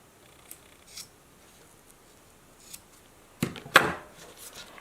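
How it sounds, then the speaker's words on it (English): Scissors snip through paracord close to a dog collar, giving a few faint early clicks and then a louder pair of crisp cuts near the end, with no talking. "I am going to cut about 1/4 of an inch away from the collar."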